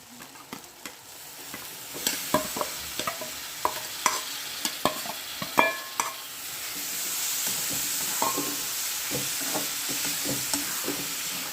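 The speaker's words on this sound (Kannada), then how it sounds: "ಇದನ್ನು ಒಂದು 2 ನಿಮಿಷ ಸಣ್ಣ ಉರಿಯಲ್ಲಿ ಸ್ವಲ್ಪ ಚೆನ್ನಾಗಿ ಫ್ರೈ ಮಾಡ್ಕೊಳ್ಳಿ" Soaked poha (avalakki) is stir-fried on low heat in a pan, with a series of sharp spatula scrapes and clacks over a soft sizzle that swells into a steadier hiss in the second half.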